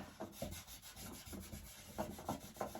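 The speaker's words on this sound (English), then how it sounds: "The scuff pad's even finer than my 220, so I'm just rubbing it along here." Fine scuff pad rubbed along a wooden end table piece to take off sanding burrs, a soft, quiet, close scratchy rubbing in short repeated strokes.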